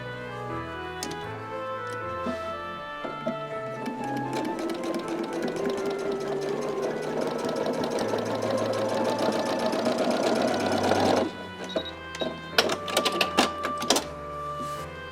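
A sewing machine stitches a quilt block for a heart-in-home block swap, running as a steady, rapid rattling hum for about eleven seconds, then breaking into a few short bursts of stitching with pauses between them.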